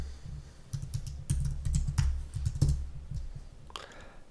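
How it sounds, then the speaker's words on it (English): Keys clatter on a computer keyboard in quick irregular bursts, close and fairly quiet, with short pauses between runs of typing and no talk. "I'm trying to look at the screen and type at the same time."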